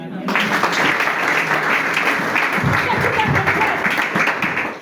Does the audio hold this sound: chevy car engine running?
no